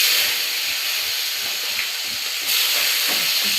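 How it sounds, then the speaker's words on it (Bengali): Chopped onion goes into hot oil with dry red chillies, bay leaf and panch phoron. A loud, steady, close frying hiss runs throughout, with faint rhythmic low thumps underneath and a brief surge partway through. "শুকনো লঙ্কাটা লাল হয়ে গেলে পাঁচফোড়নটাও হয়ে গেছে, এখন দিয়ে দিই পেঁয়াজ কুচি।"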